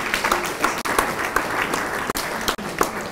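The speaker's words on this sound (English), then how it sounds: "Reserve your energy to clap more" Audience applause at a panel event on attracting and retaining Nigerian youth in agriculture: a steady, fairly loud burst of clapping from a seated crowd that holds for about three seconds with a few brief dips.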